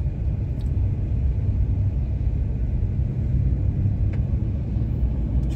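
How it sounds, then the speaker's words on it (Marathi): A motor vehicle approaching from behind on a narrow village road during a trek to Sondai fort near Karjat, heard as a steady, loud low rumble of engine and tyres that fills the whole stretch with no talking. "छोटासा रस्ता आहे, मागून सुद्धा एक गाडी येते."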